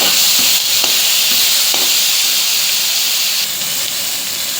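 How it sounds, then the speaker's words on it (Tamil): Garlic and tomato saute in hot oil in a pan, giving a loud, steady, close hiss of frying with a few faint clicks, and no talking. "அதுக்கப்புறம் பூண்டு போட்டு நல்லா வதக்கிடலாம்."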